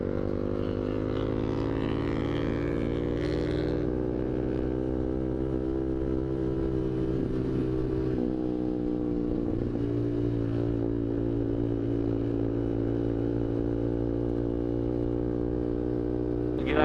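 A motorcycle rides through traffic with a steady, droning engine tone that rises and shifts as it accelerates, heard up close for the whole stretch.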